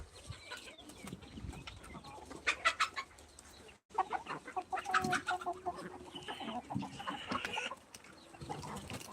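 Desi chickens cluck and squawk repeatedly at close range on a farm, busy overlapping calls with some louder bursts and a brief gap near the middle.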